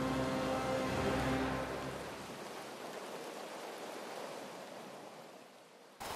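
Rain in the Guild Wars 2 fantasy game world hisses as a steady wash of noise, loud with a tonal swell at first, then softer and even until a sudden burst at the end.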